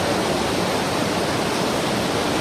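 A fast, strong river current in Sikkim rushes in a steady, loud broadband roar that fills the whole moment without a break, with no voices over it.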